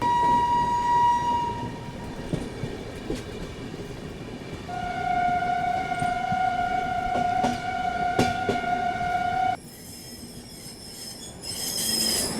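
The Rajdhani Express pulling out of Kota junction, a steady rumble of rolling rail wagons with long sustained wheel squeals and whistle-like tones, heard from on board.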